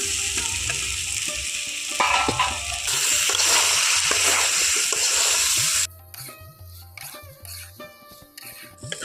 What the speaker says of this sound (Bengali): এখন আমি ভেজে রাখা আলুগুলো দিয়ে দেবো এঁচড়গুলো দিয়ে দিচ্ছি